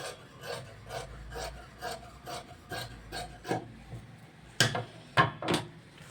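Blouse fabric cross piece being cut with scissors, giving a series of soft rasping snips in a steady rhythm, close and moderately loud, with a few sharper louder cuts near the end.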